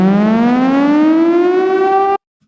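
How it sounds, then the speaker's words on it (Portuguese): A civil defense nuclear warning siren wails loud and alone, its tone rising steadily in pitch before cutting off abruptly near the end. "é uma sirene de quando toda a esperança está perdida"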